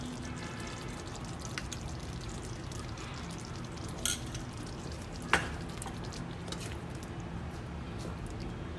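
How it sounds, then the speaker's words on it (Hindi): A steady sizzle of chicken curry frying as yogurt is added runs throughout, with a couple of sharp clinks from a spoon or utensil against the pan. "अब मैं इसमें तकरीबन 4 टेबलस्पून दही डाल रही हूँ।"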